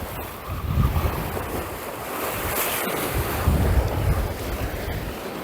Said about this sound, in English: The wind is blowing right in my face as well